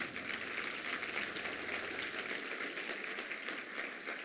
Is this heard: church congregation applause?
yes